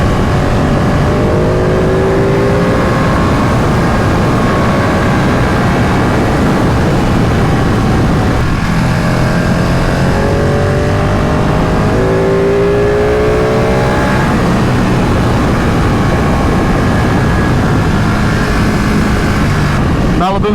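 A Ducati 959 Panigale Corse sport motorcycle with a clear clutch cover accelerates on a foggy Malibu road, its engine note rising through repeated revving sweeps over steady wind rush, loud and close throughout.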